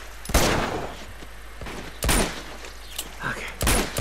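Gunfire in Uncharted 2: Among Thieves Remastered, three loud separate bursts of shots spaced a second or two apart, with quieter game ambience between them.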